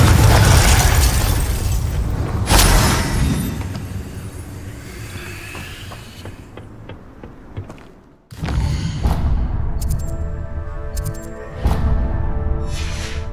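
Confringo blasting spell in Hogwarts Legacy, a heavy booming explosion with crackling debris that fades out, then a second burst of blasts and shimmering magical effects follows after a brief silence.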